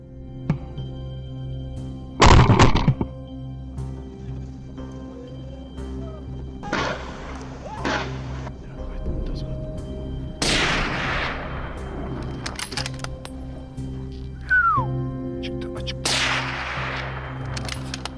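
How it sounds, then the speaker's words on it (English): Gunshots ring out during a wild boar hunt outdoors, several separate loud cracks spaced seconds apart, each echoing and decaying over a low background hum, with no talking. "my friends and I opened fire and the boars fell one by one"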